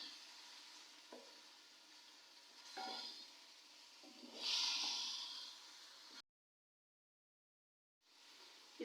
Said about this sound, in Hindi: इसकी अच्छी तरह भुनाई करनी है ताकि ये टमाटर और प्याज अच्छी तरह भुन जाए